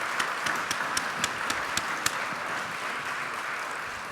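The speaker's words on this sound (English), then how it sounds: "Give them their applause." Steady applause from a crowd, a broad wash of clapping with a few sharper individual claps standing out, continuing throughout.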